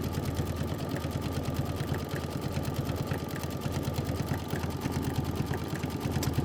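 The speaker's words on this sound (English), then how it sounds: "And then it wants to stitch the trailer siding detail." A computerized embroidery sewing machine stitches trailer siding detail onto a quilt block, a steady, rapid mechanical whirring hum with fast needle ticks running continuously and fairly loud throughout, with no voices.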